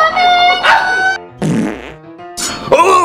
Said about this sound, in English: Oh, did you just fart?